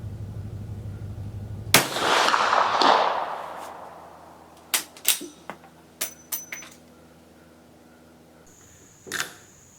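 A single 10.4x38mm Swiss Vetterli rifle shot fires outdoors, a sharp loud crack with a long rolling echo, followed by a series of small clicks and clacks and one later knock.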